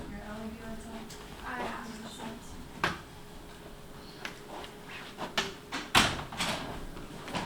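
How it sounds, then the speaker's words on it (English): Doors in a college apartment being shut during a paranormal investigation: a few faint, dull thumps and knocks spaced apart, with the last ones louder, over quiet room noise and people talking. "All right, so we're gonna shut all the doors shut."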